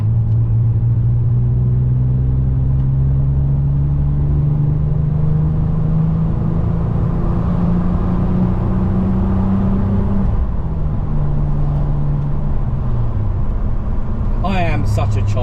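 An MG ZT 190 accelerates hard, its engine droning loud and rising in pitch through the gears, with a gear change midway and a brief whine near the end.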